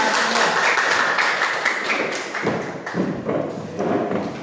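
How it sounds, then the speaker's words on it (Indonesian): Students in a classroom clap together in a dense, steady burst of applause, with a few heavier thumps mixed in, close and fairly loud, with no talk over it. "Mari kita berikan tepuk tangan untuk mereka."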